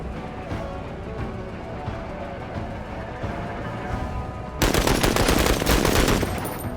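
Video game gunfire: steady rattling automatic fire runs under dense game ambience throughout, then jumps abruptly louder and harsher near the end, a continuous close barrage.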